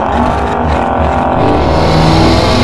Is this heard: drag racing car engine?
yes